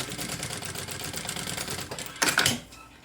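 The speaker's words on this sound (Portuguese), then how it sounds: "Eu vou colocar aqui na lateral e vou passar aqui uma costurinha." A sewing machine runs steadily, stitching a strap onto the side of a fabric cosmetic bag. The rapid needle rhythm holds close and even, then a short louder mechanical clatter sounds near the end.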